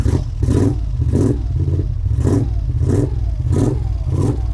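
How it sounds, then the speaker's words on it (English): A 1981 Moto Guzzi Le Mans Mark 2 motorcycle engine is revved in a series of blips close by, its low throb swelling and dropping in a steady rhythm with no one talking. "Probably give it a rev or two."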